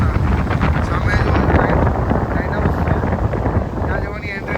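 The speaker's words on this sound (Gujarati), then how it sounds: "આ પવનનો અવાજથી તમે સમજી શકો છો કે પવન કેવો મસ્ત આવે" Strong gusting wind at a lakeside viewpoint near Tobermory, Canada, roaring loudly across the microphone in a continuous rush with no break.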